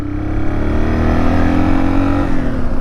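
A 6-speed 225 motorcycle pulls steadily under acceleration, with a continuous mid-pitched engine drone that rises slowly in pitch and stays loud and close for the whole stretch. No one speaks.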